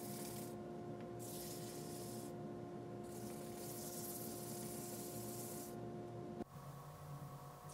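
A winged cherry bowl spinning on a wood lathe is sanded at its final fine grit, a steady whirring hum with broad hissing bursts that swell and fade as the abrasive presses on and lifts off.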